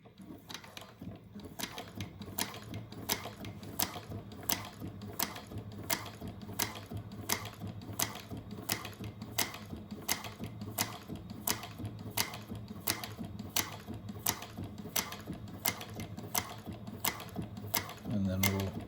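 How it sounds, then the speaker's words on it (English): A Juki 1541s industrial sewing machine stitches through scrap leather with a steady, evenly spaced run of sharp needle clacks, close and fairly loud, continuing for the whole stretch. "I'll sew this little scrap piece of leather that I've got together."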